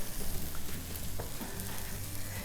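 An eggnog French toast slice fries in a hot pan, giving a steady, close crackling sizzle that runs the whole time with a few soft clicks of handling and no talk.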